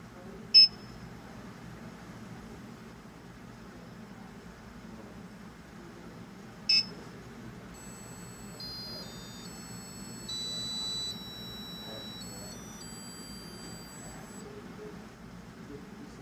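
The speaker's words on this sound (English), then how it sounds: "Every time the paddle is missed, a red LED will illuminate and making a buzzing noise." A single-player Pong circuit gives two short, sharp buzzer beeps on missed paddle hits, spaced several seconds apart, followed by a faint electronic melody of stepped tones over low background hum.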